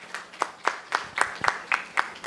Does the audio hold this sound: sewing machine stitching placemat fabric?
no